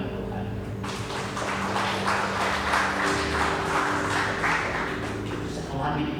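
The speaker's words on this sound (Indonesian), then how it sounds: "Tepuk tangan Tuhan." A church congregation at a GSPDI Filadelfia Jamblang service breaks into applause that swells in after about a second and holds as a steady, full wash of clapping, with a low hum beneath it.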